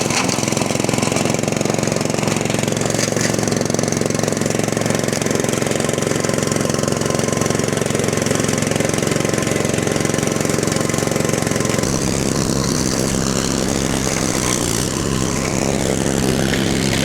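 A remote-controlled RC lawn mower's engine roars loud and close as it mows grass, a steady unbroken drone that shifts in tone partway through as the load changes.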